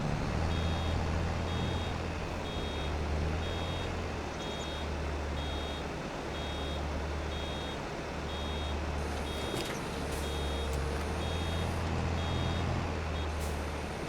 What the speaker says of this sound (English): when I hear that beeper just to stop and let it unload